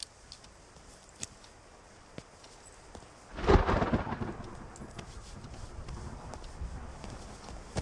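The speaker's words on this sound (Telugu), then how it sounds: "వర్షం ఇప్పుడప్పుడే తగ్గేటట్లేదు." Heavy rain falls steadily, and a rumble of thunder swells midway before easing back into the constant downpour. The rain and thunder sound distant and muffled, as if heard from indoors, with no talking.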